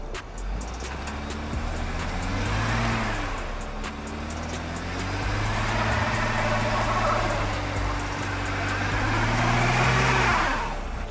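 Three-row SUV, a Honda Pilot, stuck in a traction test with the central clutch locked and traction control off; its engine revs up and down in repeated surges as the wheels spin, fairly close, with no talk.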